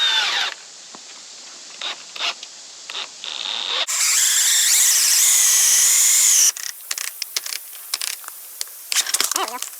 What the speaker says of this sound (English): drill from one into another